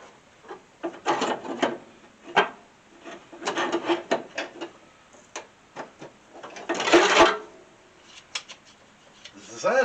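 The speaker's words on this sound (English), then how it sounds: "I'm going to get me a big old pair of channel locks here. See if I can't get this lid off the master cylinder." A big pair of channel locks scrapes and rasps against the lid of a 1964 Ford Falcon master cylinder in bursts of gripping and prying, close and moderately loud, with a brief metallic knock partway through.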